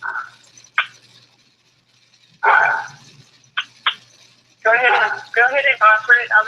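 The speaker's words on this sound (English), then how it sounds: "He probably heard my dog barking." A dog gives a few sharp, isolated barks at a distance, spaced irregularly across the first seconds, followed by a person talking close by.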